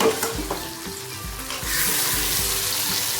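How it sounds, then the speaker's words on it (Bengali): Pieces of katla fish fry in hot oil in a home kitchen, a loud continuous sizzle that swells when more pieces go in, alongside low clattering handling sounds. "এখন এই 4 পিস ভাজলাম, বাকি আরও আছে, এগুলো একে একে আমি ছেড়ে দিচ্ছি।"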